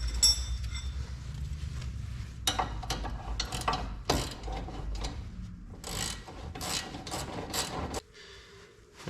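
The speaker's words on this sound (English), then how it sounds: "And put in our upper ball joint nut. Tighten that up." A ratchet tightening the upper ball joint nut on a Honda Civic EG hatchback, with bursts of rapid clicking broken by short pauses and metallic clinks, close up, and no talking.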